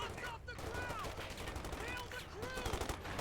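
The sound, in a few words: gunfire in a strategy video game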